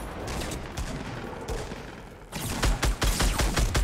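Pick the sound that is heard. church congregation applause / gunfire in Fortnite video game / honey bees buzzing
gunfire in Fortnite video game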